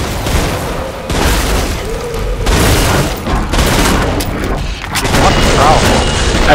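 A nail bomb bursts amid heavy gunfire in the Killing Floor 2 video game, loud booming blasts and rapid shots layered with rumbling combat noise throughout, with players talking over it.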